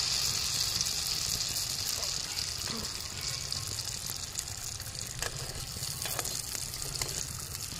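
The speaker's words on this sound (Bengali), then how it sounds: "আঁচটা কমিয়ে কমিয়ে ভাজতে হবে।" Puffed pitha rice cakes fry in oil on low heat, giving a continuous soft sizzle and bubbling with occasional crackles; a voice speaks at times over the frying.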